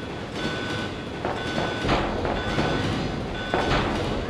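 A moving train in the Resident Evil 2 video game gives a steady loud rumble with periodic metallic clanks and rattles. The sound is close and continuous throughout.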